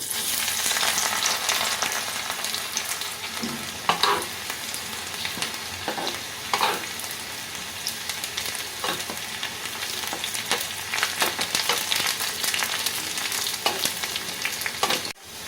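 Chopped garlic frying in hot oil for a lentil dal with fenugreek greens, a loud continuous sizzle and crackle with occasional sharp spatula scrapes and clicks throughout.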